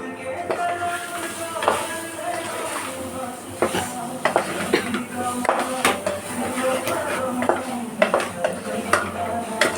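Brinjal and potato curry being stirred in a pan, with steady clinks and scrapes of a spoon against metal over a soft sizzle, close and continuous, and a faint voice now and then underneath.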